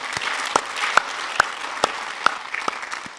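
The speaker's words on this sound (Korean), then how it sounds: "이런 의미에서 우리 하나님께 한번 영광의 박수 한번 올려드리겠습니다." A church congregation at a Sunday service claps together, a steady wash of applause with a few louder, distinct claps standing out near the microphone.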